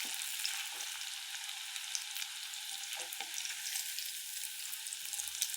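Cauliflower pakoda frying in hot oil gives a steady, close hiss of sizzling with soft crackles and a few brief stirring clatters, with no voices.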